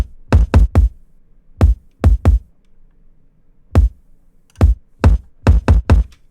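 A dirty, fuzzy kick drum sample played solo, with distortion from a stock Cubase plugin, hits in loose clusters of two and three thumps with silent gaps between them, close and punchy, with no voices present.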